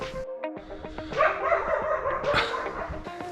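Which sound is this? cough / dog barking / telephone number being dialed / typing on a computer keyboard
dog barking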